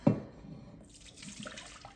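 Liquid, likely whey, poured out during home cheese making, a brief splashing gush at the start giving way to a softer steady trickle and running water.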